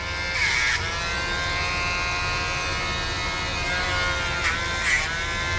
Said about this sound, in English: I prefer the Dremel. I can get closer to the quick without hitting it